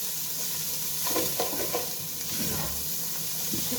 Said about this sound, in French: Je vais juste brasser mes oignons pour que ça puisse